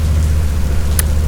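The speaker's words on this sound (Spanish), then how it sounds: "a pesar de que hay un poco de lluvia" Steady light rain hissing on a surface, a continuous wash of fine drops with a low rumbling undertone, recorded close and evenly loud with no voices.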